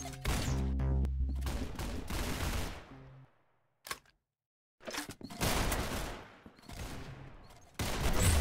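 Rapid video game gunfire crackles in dense, loud bursts, pauses into near silence, then resumes with sustained volleys and a fresh burst at the end.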